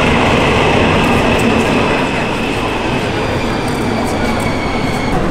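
Helsinki's Länsimetro metro train rolls through with a loud, steady rumble and a sustained high whine, continuous and close throughout, with no talk over it.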